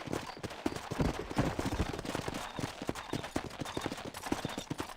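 Hooves pound in a rapid, continuous gallop in the Western video game Red Dead Redemption, a dense drumming rhythm of clip-clop beats that stays close and fairly loud.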